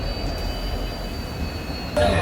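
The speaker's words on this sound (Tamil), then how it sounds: "4 o'clock நம்ம ட்ரெயின் டிபார்ட் ஆகிட்டு இருக்கு" The Pamban Express pulls out of Rameswaram station with a steady rumbling drone and faint high tones, growing slightly louder near the end.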